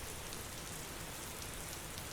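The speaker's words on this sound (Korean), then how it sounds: "청소 때문에 열어놓은 교실 양쪽 창문에선 빗소리만이 순수하게 흘러들어오고 있었다" Steady, even rain pours outside and drifts in through open classroom windows on both sides, a dense soft hiss of drops with no other sounds.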